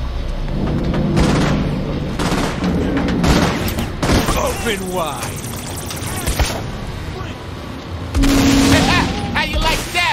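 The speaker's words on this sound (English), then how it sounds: "Shoot them rockets at him already!" Rockets and gunfire in Saints Row IV, with loud booms and rapid shot bursts going off in irregular clusters while voices shout over the chaos.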